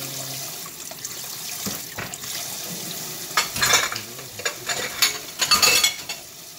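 Running tap water splashes over heart-shaped goji tomatoes being washed by hand in a kitchen sink, a steady faucet stream broken by louder rinsing bursts and clattering toward the end.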